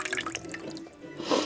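Lukewarm water is poured in with yeast while making pizza dough from scratch, a close splashing, trickling pour with dripping, strongest at the start and again toward the end, with no voices.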